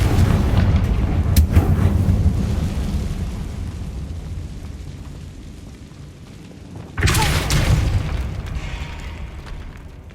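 Confringo fire spell explosions in a catacomb in the Hogwarts Legacy video game: a loud booming blast with rumbling decay, then a second sharp explosion partway through, heavy and close.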